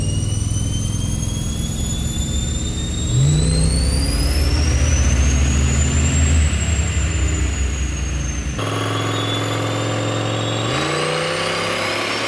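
Turbocharged police car engine revving hard under load, a loud continuous roar with rising and falling pitch sweeps as the revs climb, a shift around the middle, then building again; no voices over it.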